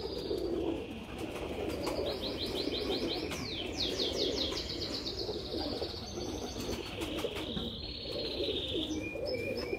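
Pigeons call from a rooftop loft, with repeated chirping trills and soft coos over a steady background hum, moderately close.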